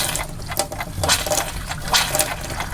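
Water gushes from an RV faucet after the water pump is switched on, sputtering and spitting in bursts as air clears the lines, splashing close and loud into the sink.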